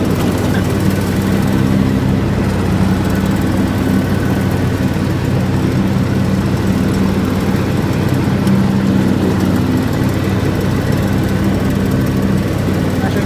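A John Deere X724 4WS lawn tractor blows cut grass into a windrow, its engine a loud, steady drone that holds unbroken from start to finish with no talk.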